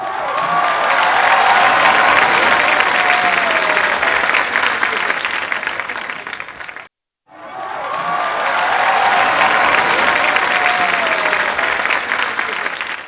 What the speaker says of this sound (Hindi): तो इनके लिए तालियां हो जाएं भरपूर